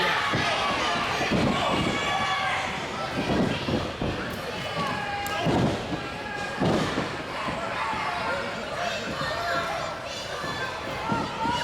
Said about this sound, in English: this crowd is giving him an earful